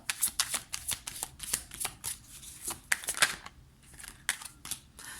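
Petit Lenormand cards are shuffled and drawn by hand, a close series of quick crisp riffles and snaps with brief pauses between bursts.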